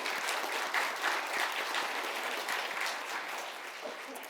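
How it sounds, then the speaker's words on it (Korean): A church congregation applauds during a Sunday worship service, steady dense clapping from many people, moderately distant and even throughout. "크게 박수로 영광을 돌립니다."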